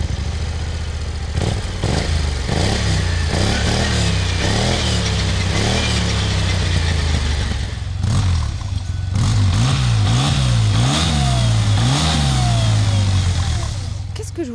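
A scooter engine revs repeatedly up and down, loud and close, the pitch rising and falling in waves over a continuous running drone.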